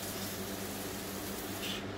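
A hand-pumped water sprayer mists hanging plants in a greenhouse, giving a steady, close hiss of fine spray that runs unbroken for about two seconds.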